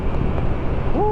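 Strong wind in Tagaytay roars and buffets steadily and loudly close to the microphone, a dense, continuous rumble, with a short rising tone appearing near the end.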